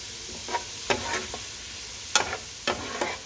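Kimchi fried rice with bean sprouts sizzles in a pan, with a steady low frying hiss broken by several sharp scraping stirs of a spatula, close and moderately quiet with no talk.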